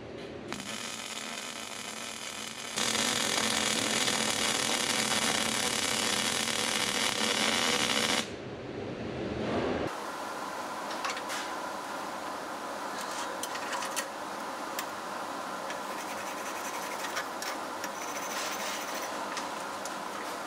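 GMAW surface welding with a welding gun gives a steady, dense crackling hiss that holds at full strength for several seconds, then continues at a slightly lower, sputtering level, close and loud.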